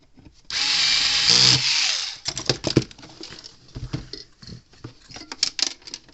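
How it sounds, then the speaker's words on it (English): A loose washer rattles and rolls inside the casing of a Cyclops Brute electric fence charger as it is tilted and shaken, making irregular clattering taps after a few seconds of loud whirring. "something rolling around the inside"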